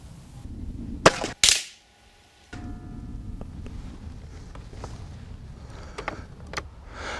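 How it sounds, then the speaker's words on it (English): An Air Arms S400 MPR FT single-shot air rifle fires at a target about 25 meters out, giving two sharp close cracks in quick succession, followed by brief silence and then low background rumble with faint mechanical clicks. "So let's just get on and shoot the rifle."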